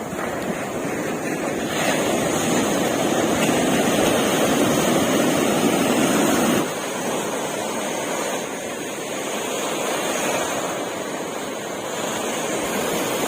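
Wind buffets the microphone in a loud, steady roar at Promenade Beach, Pondicherry, in the morning, blending with the wash of surf, with a brief lull partway through.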